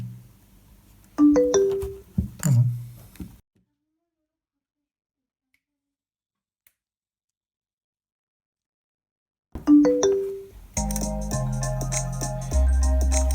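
Music plays from a flash drive through a cheap 80-lira amplifier into a 1000-watt JBL bass speaker. A few sharp tones sound first, then several seconds of silence, then the tones return and give way to loud, sustained music.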